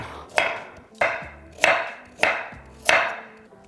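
Five sharp knife chops through carrot on a cutting board for lentil soup, evenly spaced about once every half second, close and crisp with nothing else around them.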